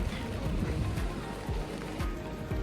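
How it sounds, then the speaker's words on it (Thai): Steady rain falls on a hillside trip near Edinburgh, a dense continuous hiss with low patters, loud and close throughout without pauses. "ดูสภาพฝนก็คือตก"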